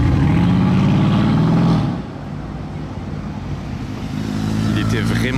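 Mercedes G63 with an aftermarket exhaust, revving loudly and close by with a deep rumble that eases off partway through and then builds again. Voices talk over it.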